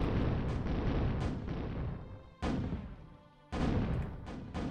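Artillery fire in the strategy game Zero-K: dense, roaring barrages of booms that swell and fade in three long waves, loud and continuous with no talk over them.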